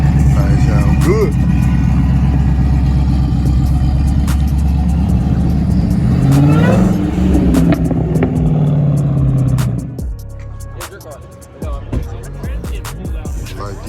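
A Hellcat running E85 revs hard at a Saturday night car meet, a loud sustained engine roar for about ten seconds that then cuts back to a lower idle, with crowd chatter around it.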